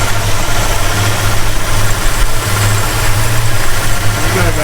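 The 440 V8 in a 1969 Plymouth Road Runner, revived after more than twenty years of sitting, idles loud and close with a steady low rumble and a slightly uneven lope.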